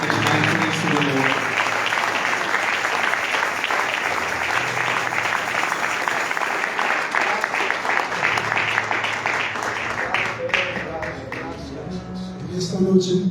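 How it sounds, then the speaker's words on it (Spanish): A church congregation applauds in praise of the Lord, a dense, steady wash of many hands clapping that runs the whole time with music or voices mixed underneath, thinning near the end. "Si le puede dar un aplauso a nuestro Señor."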